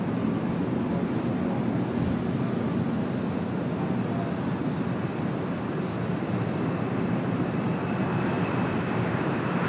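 A United airliner takes off from runway 25 right at LAX, making a steady, broad roar that stays loud and unbroken throughout.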